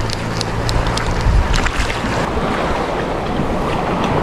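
Sea waves on open water at night, heard from a boat while fishing; a steady broad wash of surf and wind noise runs throughout, fairly loud, with brief low rumbles near the start and no talk.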